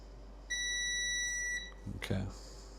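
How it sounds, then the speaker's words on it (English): A steady electronic beep from a modded Turtle Beach Bluetooth wireless headset built around an ESP32 board, one continuous tone lasting about a second, followed by brief handling clicks and rustle nearby. "But the right tip, I seem to be getting a beep."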